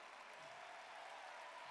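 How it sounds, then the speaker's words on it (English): Crowd applause at a cancer fundraiser celebration honoring survivors, a soft, even patter of many hands heard from some distance, ending in a sudden louder burst. "You deserve a round of applause, too"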